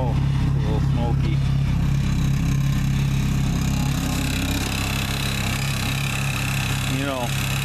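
An old vehicle with about 145,000 miles idles steadily after a cold start in snow, a loud, continuous low engine drone running throughout, with brief voices over it.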